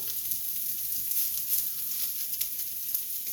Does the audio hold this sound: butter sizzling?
yes